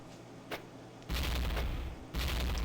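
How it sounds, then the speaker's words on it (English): Explosions from the game Blinx the Time Sweeper: a loud, sustained crackling roar of blasts in two long bursts with a brief pop before them, no speech. "Look at those explosions."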